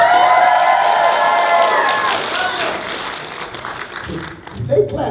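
A crowd applauding and cheering for Justin at a Metrocon 2015 convention panel, loud sustained clapping and whoops that fade toward the end as a voice starts talking.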